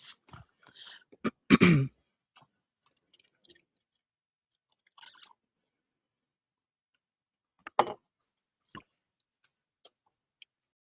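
A single quick cough from a teacher during a live online algebra class, sharp and close, followed by mostly quiet with a few faint clicks and small noises.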